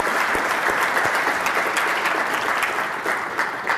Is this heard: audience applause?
yes